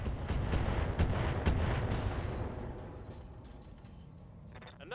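Heavy weapon fire in the Roguetech mod of the BattleTech video game booms in several close, rapid blasts at first, then trails off into fading rumbles and faint crackles, with no talk.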